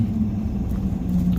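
A 2020 Chevy Silverado 5500HD truck pulls a bumper-pull trailer loaded with about 6 tons, its engine a steady, close low rumble heard alone for a brief moment.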